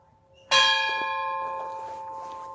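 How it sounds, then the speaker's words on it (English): A church bell struck once from a high vantage point at sunset, a sudden loud clang with bright ringing overtones that hum on and slowly fade, heard alone with no talk. "Oh, there's our bells."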